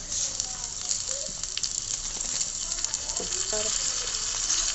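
Tomatoes sautéing for fish curry in a small pot, sizzling and crackling steadily with brief stirring scrapes, a soft, continuous fry heard alone.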